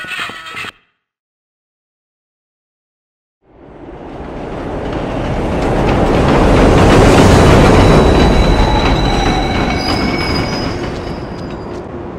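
Video game subway train rolling through a train yard: after a brief burst and a short silence, a loud rumble swells in with squealing wheels and clacking, peaking midway and fading slightly.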